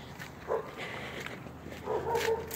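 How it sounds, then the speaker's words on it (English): Dogs bark outdoors at some distance, a few faint, muffled woofs rising over a steady background hiss with no talking. "I hate those stupid dogs."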